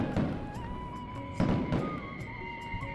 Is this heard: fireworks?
yes